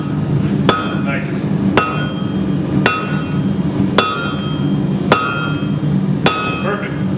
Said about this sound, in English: I'm going to be forging this sword, or at least part of it.